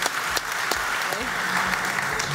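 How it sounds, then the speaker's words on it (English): Live audience at an electric car event applauding panel guests, a steady wash of clapping filling the room with a few sharper claps on top and some voices mixed in beneath. "Give him a round of applause."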